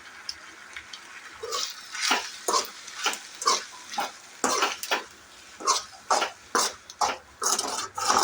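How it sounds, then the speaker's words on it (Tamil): Tomato pasta being stirred in a pan with chilli powder and turmeric: steady, rhythmic scraping strokes roughly twice a second, close and moderately loud, over a faint sizzle. "இப்போ இதெல்லாத்தையும் நல்லா மிக்ஸ் பண்ணிக்கலாம்."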